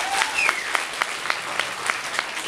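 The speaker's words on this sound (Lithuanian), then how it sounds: "Ko dar trūksta? Aplodismentų." Rhythmic, evenly spaced claps ring out from an audience in a renovated school hall, crisp and fairly close over a steady background of scattered applause.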